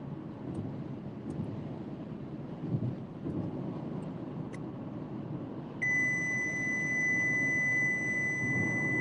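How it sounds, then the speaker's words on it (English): A loud, steady electronic tone from the ADAS calibration computer in a 2023 Honda CR-V during a dynamic radar aiming drive, starting partway through and holding over a constant low rumble of road noise. "So that loud beep is coming from the computer."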